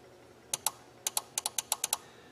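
A relay inside a Chrysler/Dodge TIPM (totally integrated power module) clicks repeatedly up close while the module is tested for a wiper fault, giving about ten sharp ticks in small uneven groups over a quiet background.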